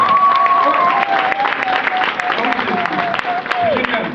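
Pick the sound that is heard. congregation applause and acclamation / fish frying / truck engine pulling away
congregation applause and acclamation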